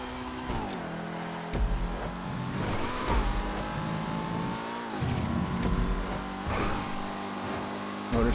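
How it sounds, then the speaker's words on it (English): A loud motorcycle engine in FiveM, the GTA V racing game, revving repeatedly with rising and falling pitch sweeps amid other car engines and race noise, close and continuous. "Motorcycle being very loud."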